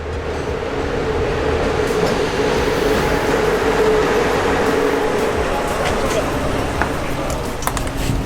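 Steady rumbling interior noise of a moving passenger train in Romania, continuous and fairly loud, with faint voices in the carriage.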